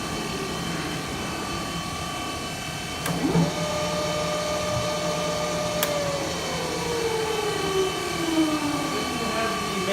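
A Bridgeport vertical milling machine with a 42-inch table and 1 hp three-phase motor runs with a steady motor hum while the table feeds along, a rising then falling whine sweeping through as it changes direction, with a few clicks and a voice briefly.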